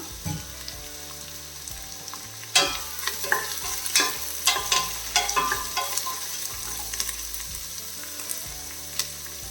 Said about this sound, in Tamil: இனி வந்து நாம் இதில் ஒரு ரெண்டு பெரிய வெங்காயம் இந்த மாதிரி கட் பண்ணி வச்சுருக்கிறேன் அதையும் சேர்த்துட்டு நல்லா வதக்கிடலாம்